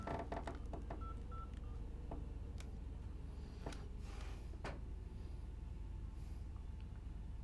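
A mobile phone number being dialed by hand, a quick run of short keypad tones and beeps near and clear over steady low background hum, with no talking.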